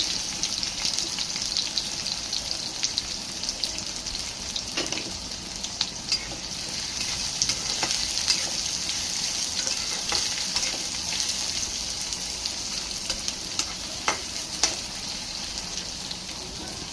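Onions frying in a pan for a red chicken dish, with cloves added to the oil: a steady, dense sizzle runs throughout with occasional crackles and stirring scrapes, fairly close and without talk.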